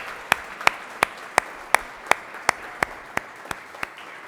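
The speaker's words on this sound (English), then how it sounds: "can you just join us in a round of applause" Crisp, evenly spaced claps ring out one at a time, about three per second, at an outdoor holiday tree lighting event, each a sharp separate snap with little crowd noise behind.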